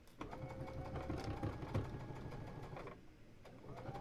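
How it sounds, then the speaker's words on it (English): A domestic sewing machine stitches pieced quilt block rows together, a steady close motor whir with a rapid needle rhythm running continuously, briefly dipping near the end before resuming. "this is the top row of our block that's being sewn"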